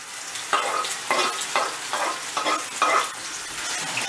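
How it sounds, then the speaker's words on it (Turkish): Vegetables for Turkish menemen frying in a pan while being stirred: a constant sizzle with about six rhythmic scraping strokes of the spoon, close and clear, with no talking. "Bir karıştırıyorum."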